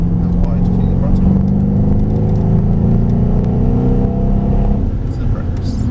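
A Mercedes-AMG SL63 accelerates on the Mercedes-Benz World race track, its engine note rising steadily as a loud in-cabin drone, with a voice speaking over the engine throughout.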